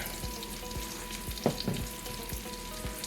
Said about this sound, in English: I'm going to go ahead and start seasoning our bacon and onions here.